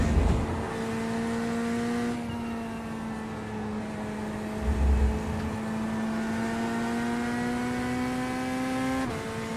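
A GT3 racing car engine in the iRacing sim drones at high revs with a steady tone that climbs slightly, then shifts gear near the end.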